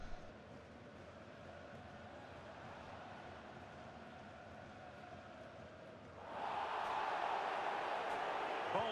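A stadium crowd in the FIFA 21 football game murmurs quietly under commentary, then swells suddenly into a louder, sustained roar of disapproval near the end.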